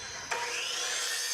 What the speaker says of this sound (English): Trim it down with a miter saw.